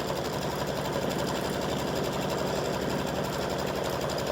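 A sewing machine runs steadily for a few seconds, stitching down appliqué fabric with a fast, even mechanical whir and needle clatter, close and alone.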